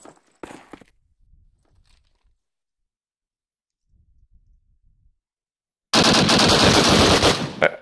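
A machine gun fires in a competitive online shooter match on a World War II map. Near silence with faint scattered clicks and steps gives way to a sudden, loud, sustained burst close by.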